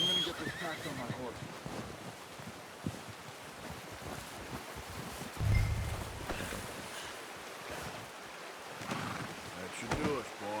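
A horse whinnies amid windy outdoor ambience in the video game Red Dead Redemption 2, with a soft thump partway through and brief speech-like sounds in the background.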